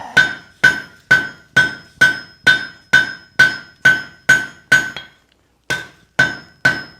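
Hammer blows forge-welding steel at welding heat while a hoe is forged, a steady run of about fourteen ringing strikes with a brief pause near the end, each sharp and close with a bright metallic ring.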